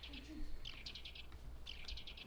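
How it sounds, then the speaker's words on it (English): A bird in the video game Farming Simulator 19, on the Nowa Wies map, gives quick bursts of repeated high chirps in two short phrases, faint and distant over soft wind-like ambience. "I hear that bird."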